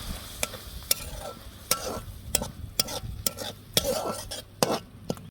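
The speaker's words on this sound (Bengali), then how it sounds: "আলুটাকে আবার মশলার মধ্যে কষিয়ে নেব" A spoon stirs fried potatoes through a spice mix in a pan while cooking a tengra fish curry with tomato, giving repeated sharp scraping clacks about twice a second over a soft, steady sizzle, close and alone with no voices.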